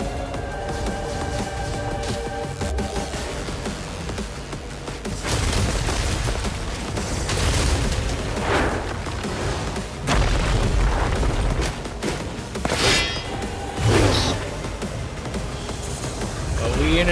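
Cannons fire in a video game, a run of deep booming blasts and rumbling impacts layered over busy game sound, loud and close, some shots clustered in quick succession.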